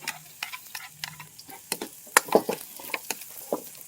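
Ginger and garlic sautéing in hot cooking oil, with irregular sizzling bursts and clicking stirring strokes against the pan, close and fairly loud.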